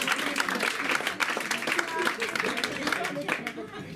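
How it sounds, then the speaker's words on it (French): A theatre crowd at an improv comedy show claps in a dense, continuous patter for a performer. Voices mix in with the clapping throughout. "On peut l'applaudir!"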